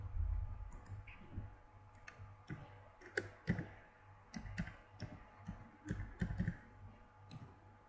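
A computer mouse clicks close by in a quiet room, a scattered run of crisp single and double clicks at irregular intervals.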